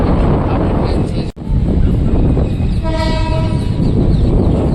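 A train pulling away from platform three at a railway station, a loud rumbling roll with wind buffeting the microphone, a momentary dropout near the start and a tonal horn-like sound rising briefly around the middle.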